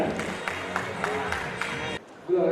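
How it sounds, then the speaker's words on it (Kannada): Audience applause for guests at an anniversary function of a Karnataka organization, steady broadband clapping and crowd noise lasting about two seconds before dropping off, then a brief voice. "ಜೋರಾಗಿ ಚಪ್ಪಾಳೆ ಅತಿಥಿಗಳಿಗೋಸ್ಕರ"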